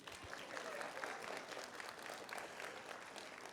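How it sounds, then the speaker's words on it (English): Audience applause fills a keynote address at a youth leadership conference: dense, steady clapping from a large crowd that holds a constant level throughout, with no voices standing out. "clap for me"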